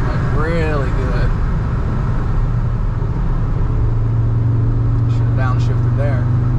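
An Audi S3 8Y's engine hums low and steady as it downshifts on a mountain road, the drone swelling partway through while someone talks over it from inside the car.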